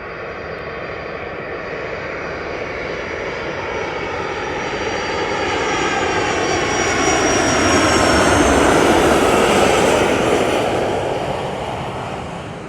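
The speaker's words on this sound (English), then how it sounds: "There you have it, folks, the mighty beast, which is the Boeing 757." A Boeing 757 airliner at Lanzarote airport roars loudly and continuously with its engines, the sound swelling toward a peak about two-thirds through as it passes nearby, then easing slightly.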